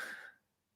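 A single short, breathy cough close to the microphone, quickly fading into quiet.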